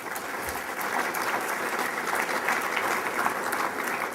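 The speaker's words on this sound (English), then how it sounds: "I'll give you guys a round of applause" Dense, steady applause from an audience at the 2014 Torrance, California State of the City address by Mayor Frank Scotto, with clapping filling the hall evenly for the whole stretch and no voices.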